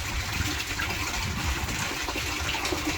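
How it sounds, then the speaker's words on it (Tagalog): Natural spring water from the mountains gushes out strongly in a steady, dense rush of splashing water, with no break across the short stretch. "lakas ng bukal ng tubig na lumalabas"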